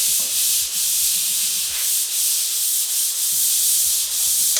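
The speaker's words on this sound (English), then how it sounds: "You just take your sand ball. You just run it over real lightly." A sanding block with 220-grit paper is rubbed lightly by hand over drywall, producing a steady close scratchy hiss with soft rhythmic strokes.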